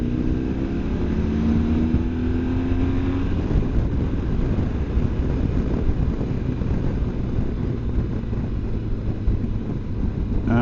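A BMW GS motorcycle engine pulls hard in third gear, its rising note audible at the start before being swamped by heavy wind buffeting over the microphone.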